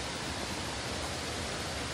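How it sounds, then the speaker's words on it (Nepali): A hill stream flows below a road near Mirik, heard as a dense, steady rushing wash of water with no breaks. "मजाको खोलाहरु बगिरहेको तलतिर यहाँ देख्नुस्"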